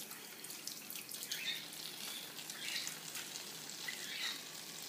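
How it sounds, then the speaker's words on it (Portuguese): Tap water runs steadily over natural-bristle makeup brushes held downward under a faucet, a continuous hissing splash with small shifts as the brushes move through the stream. "sempre para baixo, nunca para cima, para a água não entrar dentro do cabo do pincel de vocês"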